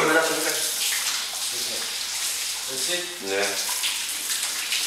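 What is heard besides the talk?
shower water running after coast guard training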